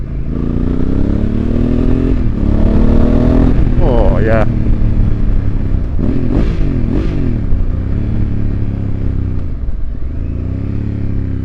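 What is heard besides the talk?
Honda Africa Twin motorcycle revving with FUEL exhaust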